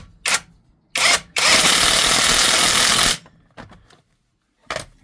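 A ONEVAN 1200Nm cordless driver spins a screw into wood, with two short trigger bursts, then a loud sustained run of about two seconds, followed by faint clicks and one more brief burst.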